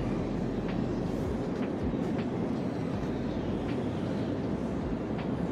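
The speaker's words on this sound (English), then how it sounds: "See the train as far as it can go." A long train rolls steadily past outdoors, its rumble continuous and fairly quiet, with faint rhythmic clicks of wheels on rail joints and no voices.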